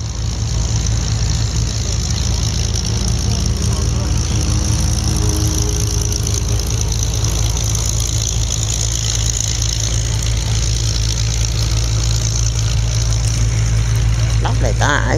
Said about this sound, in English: The Australian Jabiru engine.